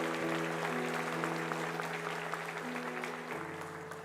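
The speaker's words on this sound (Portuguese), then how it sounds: "Eu queria pedir mais uma salva de palmas para esse texto maravilhoso." Church congregation applauding during a Portuguese-language sermon, a dense steady wash of clapping that holds throughout at moderate loudness, with a sustained musical tone, likely an organ or keyboard, beneath it and no talk.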